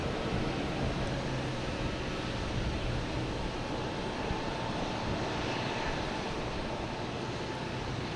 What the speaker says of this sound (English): Next to arrive is JetBlue, an A320 from JFK.